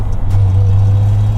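A modified 1982 Datsun 280ZX engine holds a loud, steady low rumble close by, a deep idle-like drone that stays even for over a second with no clear rise in revs.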